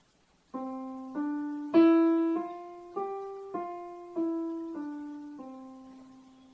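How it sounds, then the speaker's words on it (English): A melody of eight plucked or struck tones at a steady pace, the third note clearly louder than the rest, each decaying before the next. "if I have to play the same piece and accent my third note"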